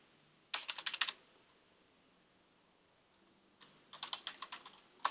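Fingers typing on a computer keyboard, two short bursts of quick, close key clicks separated by a few seconds of quiet.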